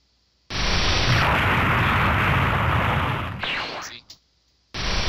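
A ki blast fired in the Minecraft Dragon Block C mod: a loud, roaring burst that holds for about three seconds, then fades with a short whooshing tail before cutting to silence, followed by a fresh loud burst at the very end.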